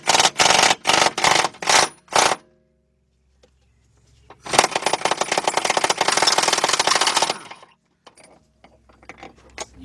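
An impact tool hammers at a big bolt on a 2007-2010 Audi A8 Quattro during starter replacement, a few loud rattling bursts, a pause, then a long sustained rapid-fire hammering run close by, with no talk.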